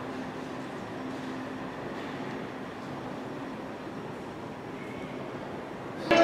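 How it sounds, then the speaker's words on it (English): A train arrives at Nottingham station with a steady rumbling, hissing drone of rolling stock that holds at an even level, ending with a brief louder burst at the close. "Arriving into Nottingham now is the"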